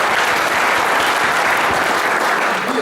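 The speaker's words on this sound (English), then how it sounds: "let's give Mr. Bill Nebo a big round of applause" Audience applause at a speech contest and auction, a steady, loud burst of clapping that fills the whole stretch without a break, with no talk over it.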